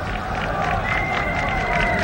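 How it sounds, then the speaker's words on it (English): The Indian section of the crowd at a 1983 World Cup cricket semi-final against England cheers joyfully, a loud, sustained roar of many voices with scattered shouts and clapping blended into a dense wall of sound. "Joyful Indian section of the crowd"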